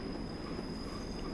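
Simulated passenger train braking into a station in Train Sim 2018, on the Weardale and Teesdale line from Bishop Auckland to Darlington, a steady low rumble of wheels on rail with a faint high squeal throughout.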